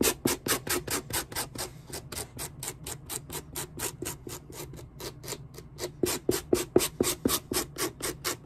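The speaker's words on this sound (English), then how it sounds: "So you take one of these tools and you scratch the shit out of it. Just roughen up the surface." A hand tool scratches rapidly back and forth across a leather shoe sole to roughen it, producing a close, brisk rhythmic series of rasping strokes with no talking.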